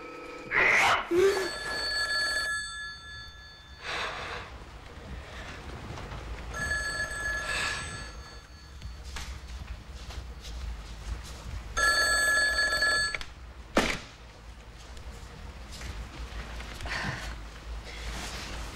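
An old-style telephone bell rings indoors in repeated bursts of about a second each with pauses between, loud and near, and a faint voice is heard in the gaps.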